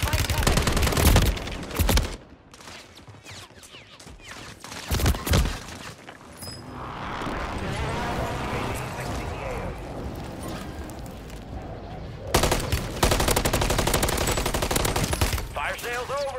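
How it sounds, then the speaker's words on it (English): Rapid gunfire and heavy impacts pound through a Call of Duty Warzone match on Rebirth Island, loud bursts at the start and again near the end around a quieter stretch with talk in the middle. "Enemy precision airstrike."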